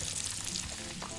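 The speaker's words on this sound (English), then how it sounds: "Hear that sizzling?" Bacon sizzles on a grill in a Roblox burger-cooking game, a brief, dense, even crackle of frying that fills the moment on its own.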